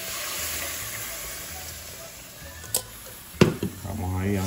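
Milk being stirred into sizzling toasted flour in a pan for cod croquettes, a faint steady hiss broken by a few sharp clinks and scrapes of the utensil near the end, while a person speaks quietly.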